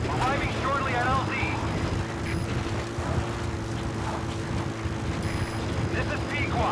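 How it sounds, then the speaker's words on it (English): Support helicopter arriving at a landing zone in the Metal Gear Solid V: The Phantom Pain video game, heard as a steady low rotor and engine drone throughout, with radio voices speaking over it. "Support helicopter has arrived."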